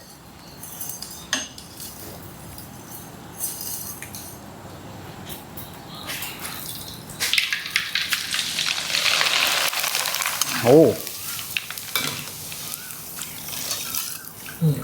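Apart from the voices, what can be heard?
rice vermicelli deep-frying in hot oil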